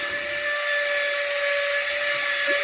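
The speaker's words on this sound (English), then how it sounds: "this is an aluminum style cutting burr, guys, so it's a little bit more coarse. Plunge in, has a lot of resistance." A rotary tool with a coarse aluminum-style carbide cutting burr plunges into metal, giving a loud, steady high-pitched whine that holds throughout.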